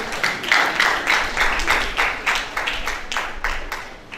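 An audience applauds at a formal lecture event, a dense steady run of clapping from many hands lasting a few seconds, fairly loud and close, with no speech over it.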